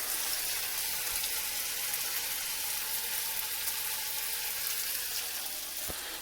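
Food sizzles steadily in hot oil, a dense, even crackle that holds unbroken and close for several seconds, with no voices over it.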